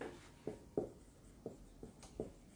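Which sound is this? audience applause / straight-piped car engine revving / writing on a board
writing on a board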